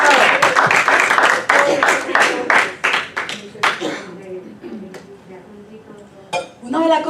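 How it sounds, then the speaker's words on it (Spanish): A church congregation claps in loud, fairly rhythmic bursts for several seconds before the clapping thins and fades, with a voice speaking over and after it. "Demos un aplauso al Señor"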